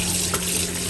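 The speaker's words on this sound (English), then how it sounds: "And then we're gonna rinse it up with enough water." Tap water runs steadily into a sink to rinse a raw turkey, a constant close hiss of flowing water with a faint brief clatter partway through.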